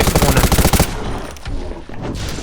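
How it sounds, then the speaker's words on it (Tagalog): Video game gunfire rattles in a loud rapid automatic burst, then cuts off to quieter background ambience with a few faint distant pops. "Ba't bumaril na si Demon agad"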